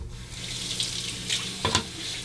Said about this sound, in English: Another quick rinse.